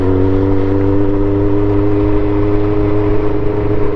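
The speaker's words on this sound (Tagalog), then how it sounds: "Napakaganda na yung response ng motor natin." A motorcycle engine on Marilaque Highway in the Sierra Madre, a steady close drone with humming tones held at an even pitch, running continuously with no talk.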